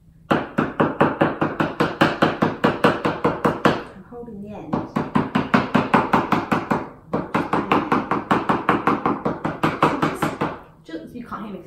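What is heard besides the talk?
hand smacking a table while painting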